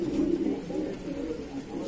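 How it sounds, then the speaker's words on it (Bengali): Madrasi pigeons in a loft coo in a low, continuous murmur, close and fairly loud, with no talk over it. "এটা একটা কালাঙ্কা মাদি, ওই পায়রাটার সাথে জোড়া দেওয়া হয়েছে"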